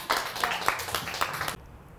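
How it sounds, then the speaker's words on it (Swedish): Swedish TV studio audience on a talk show breaks into a short burst of dense applause, loud and close, cutting off abruptly after about a second and a half. "En applåd."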